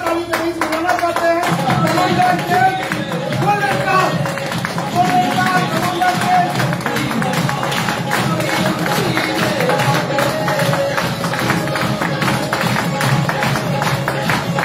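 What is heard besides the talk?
audience clapping loudly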